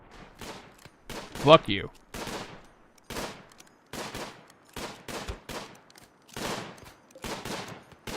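Gunfire in a raid in RimWorld comes as repeated sharp bursts of shots spread through the scene, with someone talking over them.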